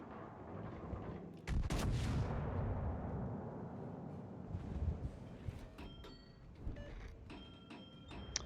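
Naval gunfire in World of Warships from the battleship Republique: a heavy boom and rumbling roll after about a second and a half, then fading reverberation with faint clicks and ticks of interface sounds.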